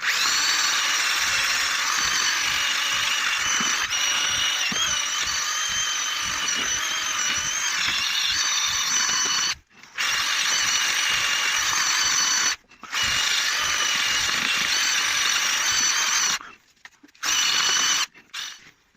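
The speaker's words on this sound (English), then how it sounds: "So I'm using just a normal drill and a wire wheel." An ordinary power drill fitted with a wire wheel scrubs oil residue off a car's brake parts. The close, loud, steady whirring grind runs in long bursts, and each burst breaks off into short pauses before the drill spins back up.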